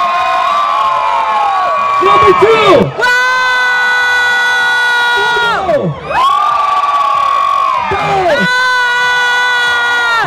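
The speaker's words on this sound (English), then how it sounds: "Clap some noise, participant number one." A crowd at a spring break contest at the Riu Vallarta resort in Puerto Vallarta, Mexico, whoops and cheers loudly and steadily for a participant, with shrill, sustained voices rising and falling, and someone briefly speaks over it.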